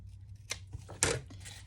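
Scissors snipping through craft paper, two distinct crisp cuts about half a second apart with a fainter snip after, close and clear against a quiet room.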